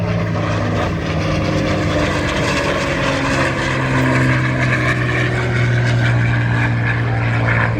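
A Supermarine Spitfire Mk IX with a Rolls-Royce Merlin engine performs an airshow flight display, its piston engine droning loud and steady overhead with a propeller hum that swells slightly as it passes.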